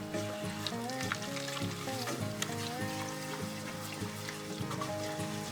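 Flour roux sizzling in a pot as it is stirred, a steady crackling fry under music with tonal notes, with occasional scrapes from stirring.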